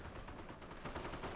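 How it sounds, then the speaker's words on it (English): Artillery and gunfire in a real-time strategy battle game, a dense rapid rattle of distant shots and booms blending together, faint and continuous, with no talking. "here comes the artillery trying to fire onto that infantry blob"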